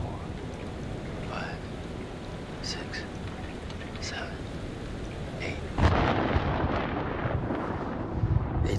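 Thunderstorm thunder in the video game Man of Medan: a steady hiss of rain and wind breaks into a sudden loud, close rumbling crash partway through, which keeps rolling to the end.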